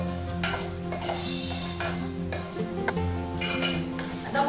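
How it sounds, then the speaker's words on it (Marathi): Misal masala being stirred and sautéed in a pan, with repeated metallic scrapes and clinks of a spoon against the pan over a faint sizzle, fairly close, with no talk. "आता मसाला हा चांगला तेल सुटेपर्यंत परतवून घ्यायचा"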